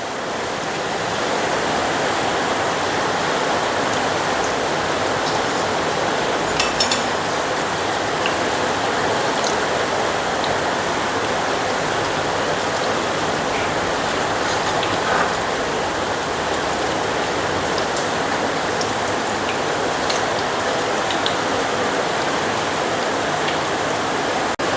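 Steady heavy rain falls outside in an unbroken, wash-like roar, close and constant throughout with faint scattered drop ticks and no talking.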